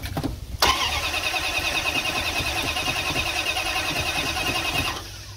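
Starter cranking on a 1971 Dodge D100 pickup left abandoned for 34 years, a loud, fast rhythmic churning that begins abruptly and runs steadily for several seconds without the engine catching, then stops.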